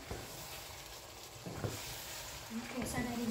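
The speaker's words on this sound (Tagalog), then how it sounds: "Ayan, nasangkutsa na siyang mabuti" Chicken sautéing in a pan for Filipino tinola soup, a steady close sizzle with occasional stirring scrapes and clinks, while a person talks over it.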